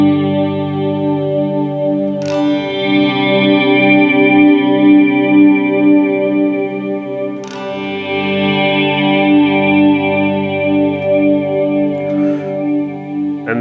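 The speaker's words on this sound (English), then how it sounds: "this will give you a little bit more of a warm swell sound" Sustained guitar swell through an analog-toned pedal with reverb, warm chords blooming slowly and ringing out in long washes, with a new swell rising roughly every five seconds, alone and fairly loud.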